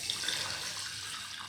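Water runs steadily from a tap into a pan of rice for boiling, a continuous hiss-like splash that stays even and close throughout.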